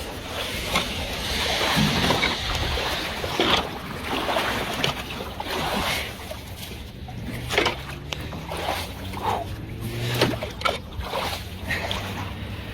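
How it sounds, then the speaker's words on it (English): Water rushing steadily out through a freshly unclogged outdoor drain, a continuous broadband gushing flow that holds loud throughout with small splashes and scrapes on top. "It's gonna start draining faster now"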